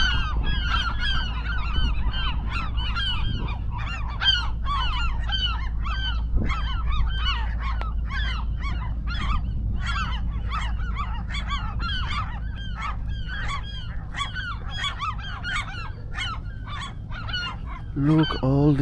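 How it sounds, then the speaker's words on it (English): A large flock of geese honks continuously on Alcatraz Island, dense overlapping calls close by and loud throughout, over a steady low rumble of wind or surf. "Look, all these birds."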